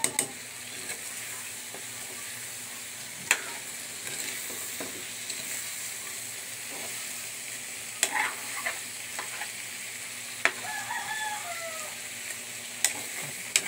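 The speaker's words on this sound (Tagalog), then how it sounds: "Halo-halo lang. Halo-halo lang. Hanggang maluto ang ating hipon" Butter garlic shrimp stirred in a pan as they cook: a steady, quiet sizzle punctuated by sharp scraping clicks of a utensil against the pan at irregular intervals, with no talk.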